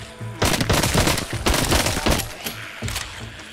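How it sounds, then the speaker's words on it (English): Rapid bursts of gunfire from weapons in the VR zombie shooter Arizona Sunshine, set in old Dutch mines, firing in several loud clustered volleys with brief gaps between them. "Now it's time to shoot like a boss"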